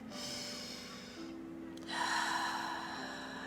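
A slow, deep breath is drawn in through the nose, a soft, airy inhale heard close and alone over a faint steady background hum.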